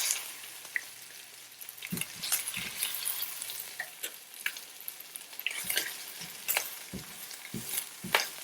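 Sausage sizzles and crackles in a skillet, with a steady frying hiss broken by scattered pops and the scrape of a utensil turning or lifting the pieces, and no voices.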